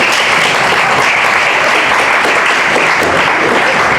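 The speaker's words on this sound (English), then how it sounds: "The women, please clap for the men." Women in a seminar audience at a breast cancer awareness event clap together, a dense, steady wash of applause filling the room at close range for the whole stretch, with no voices over it.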